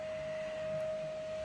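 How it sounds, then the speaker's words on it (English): Vacuum cleaner running at home in the evening, a steady whining drone with a strong sustained tone, moderately close and unbroken for the whole moment. "Abby's hoovering"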